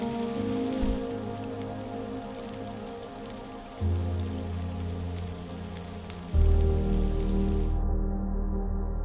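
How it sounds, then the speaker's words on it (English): Steady rain pours down at Lake Kawaguchi on a windy, cloudy morning, a dense continuous hiss of drops on surfaces throughout, with a faint low rumble of wind underneath. "now this morning it's rainy, windy, and very cloudy"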